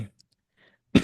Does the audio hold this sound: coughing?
yes